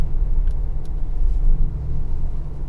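Steady low engine and exhaust rumble from a 2022 Mercedes G63 AMG G-Class driving at low speed, a constant droning hum heard from inside the cabin with no talking.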